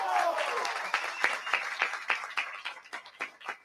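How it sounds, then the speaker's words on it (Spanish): Applause at a Colombian political gathering, starting as a dense burst that thins into scattered, distinct claps from a smaller group, fading toward the end, with a voice briefly audible at the start. "un aplauso a esa comisión."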